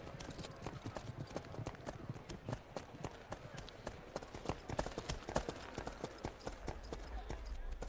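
Horse hooves galloping hard during an Uzbek ulak (goat-grabbing) horseback contest, a dense, rapid clip-clop that drives steadily through the whole stretch, fairly close, with voices mixed in beneath.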